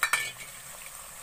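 Chopped tomatoes frying in a pan for a beef aloo korma, opening with two quick scraping stirs of a utensil against the pan, then a soft steady sizzle trailing off quietly.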